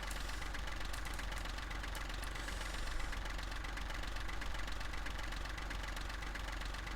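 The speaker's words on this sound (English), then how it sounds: "It's funny how Courseplay doesn't turn the engine off" A tractor engine idles on in Farming Simulator 15, a steady mid-to-low chug that runs unbroken at moderate, even loudness with no talk over it.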